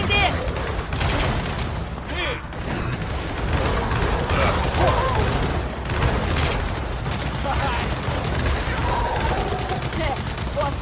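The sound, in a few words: turret gunfire in the video game Gears of War 4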